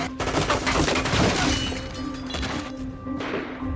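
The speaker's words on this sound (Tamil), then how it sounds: "இருந்தாலும் இவங்க 2 பேரும் துப்பாக்கி எடுத்து அவங்கள சுட ஆரம்பிச்சாங்க." A rapid burst of gunfire crackles in a shootout, a dense flurry of sharp reports and thuds that thins out toward the end, with no talk heard over it.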